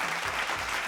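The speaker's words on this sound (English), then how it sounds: "So, insert applause." Applause sound effect, a dense, steady wash of crowd clapping that holds evenly at moderate loudness throughout, with no voices over it.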